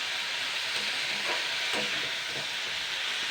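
Mixed winter vegetables for veg chop filling are stirred in a frying pan as they release water, a soft sizzle with a few gentle scraping strokes.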